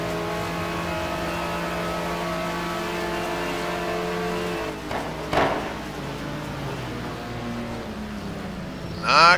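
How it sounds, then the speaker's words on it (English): A Ferrari GT race car in a racing video game at Fuji holds a steady high engine drone down the straight, then the pitch shifts with brief bumps and a louder burst at the end. "That Ferrari showing its legs down the straightaway, though."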